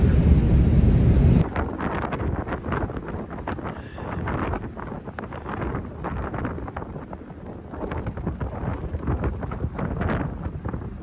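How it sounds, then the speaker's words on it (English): Strong wind buffets the microphone with loud roaring gusts on a ferry crossing to Vancouver Island, then settles into a constant blustery rush mixed with water and engine rumble. "Just a little bit windy out there."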